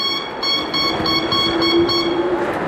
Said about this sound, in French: On dirait un klaxon de fête foraine